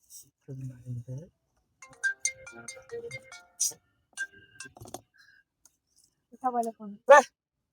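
A phone ringtone rings in short tonal bursts at the start and again near the end, mixed with light clicks while people talk nearby.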